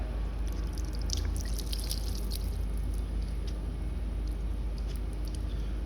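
Water fills a combination air valve in a vault, a continuous close rushing and trickling with scattered bright drips and splashes over a low rumble.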